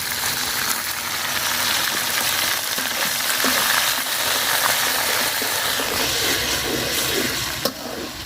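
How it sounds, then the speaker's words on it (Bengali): Ground spice paste and browned onions frying in oil for beef haleem, giving a loud, continuous sizzle with a few brief clatters near the end, close up and without any talk. "পেঁয়াজটা লাল লাল করে ভাজা নিছি, বাটা মশলাটা দিয়ে দিলাম"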